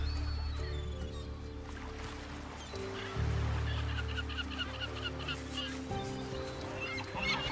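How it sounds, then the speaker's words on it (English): Many terns call and squawk together in a busy nesting colony, harsh overlapping cries over a low steady hum, with a voice talking over them. "Their massive colonies are home to thousands of nesting birds."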